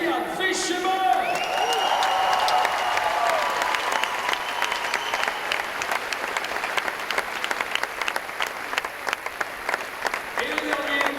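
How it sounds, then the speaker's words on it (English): Crowd at the men's bouldering final of the 2012 IFSC Climbing World Championships in Paris applauds a climber, a long dense roar of clapping with cheers, while an announcer's voice carries over the top. "Applaudissements s'il vous plaît"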